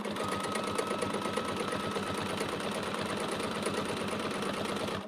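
A sewing machine stitching down binding on a T-shirt quilt, running continuously with a steady fast mechanical whir and rapid needle rhythm, close and even throughout.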